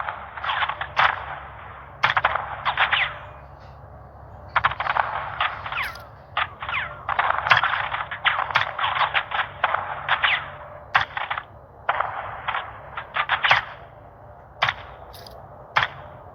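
Gunfire in Call of Duty MW2, repeated sharp bursts of automatic and single shots in irregular clusters, loud and close throughout with a low background hum and no talk.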